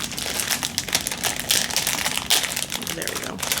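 Dollar Tree plastic packaging being pulled and torn open by hand: a steady run of close crinkling, crackling and tapping rustles lasting several seconds, with a few sharper snaps.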